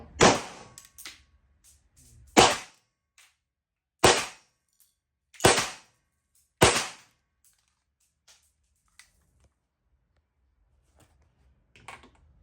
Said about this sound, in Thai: ทดสอบปืนแบงกันนะครับทุกท่าน อุดหูด้วยนะฮะ